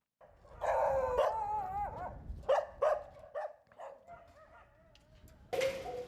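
Several dogs bark and yelp in a busy chorus, some howling, a mix of near and farther voices echoing in an enclosed space at an animal shelter in Esenyurt, Istanbul.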